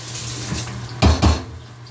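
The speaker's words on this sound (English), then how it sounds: "and I gotta rinse it off." Utensil rinsed under a running kitchen tap, a short close splash of water with two quick bursts as it passes through the stream, heard alone.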